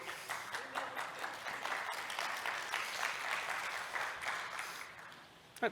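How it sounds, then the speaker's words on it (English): A church congregation at Apple Valley Church of the Nazarene applauds themselves, with steady, moderately quiet clapping from many hands sustained for several seconds, ending in one sharper knock. "Clap for yourself."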